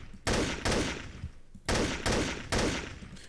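Gunfire in the video game Trouble in Terrorist Town: four loud, sharp bursts of rapid shots, each fading before the next, with no talking over them.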